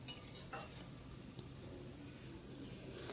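Spiced potatoes being stirred in a pan: faint, continuous scraping and light clinks of a utensil against metal under a soft hiss, with no talking.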